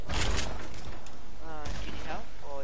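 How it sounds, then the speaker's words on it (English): Sniper fire comes from a hill in a shooter video game, heard as bursts of gunfire packed into a busy stretch, with voices talking over it. "I was just getting sniped from the hill south"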